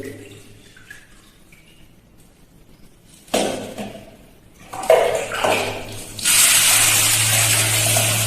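Mung beans are rubbed by hand and rinsed in a sink for homemade bean sprouts: quiet handling at first, then splashing and sloshing, and finally a loud steady stream of running tap water, close and with no talk.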